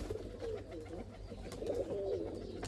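Soft, repeated cooing of high flyer pigeons, a nesting pair, close by, low rolling calls over faint background noise.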